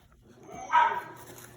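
Five-week-old puppies from a litter of seven give a short, faint whine that swells briefly in the middle, close by with no talking.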